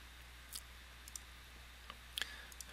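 Soft computer mouse clicks, a few isolated taps spread across a quiet stretch, faint and close with low hum behind.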